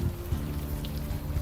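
Steady rain falls in the Unavowed game, a continuous soft patter with a low rumbling undertone throughout this short stretch, no voices present.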